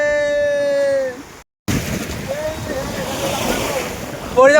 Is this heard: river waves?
yes